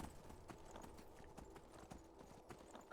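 A horse's hooves clip-clop in the video game Skyrim, a steady run of faint, rhythmic hoofbeats under a low, constant background hum.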